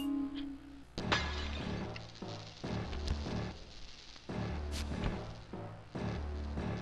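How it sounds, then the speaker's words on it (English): Glass shatters in the Sly Cooper and the Thievius Raccoonus video game: a run of sharp, crashing breaks and clinks recurs throughout amid busy game sound effects. "Hear a little glass break and all that."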